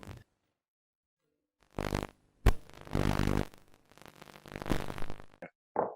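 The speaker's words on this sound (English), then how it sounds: "I just farted." Several close, loud farts in a quiet room come in separate bursts: a long rumbling one, a sharp pop, then another sustained buzzing release, followed by brief squeaky tails.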